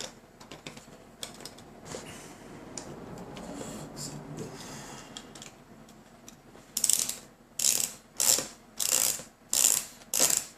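Small screws are driven into a Tamiya flatbed trailer scale model, with light clicks and handling noises first, then a run of six quick, bright ratcheting bursts close by.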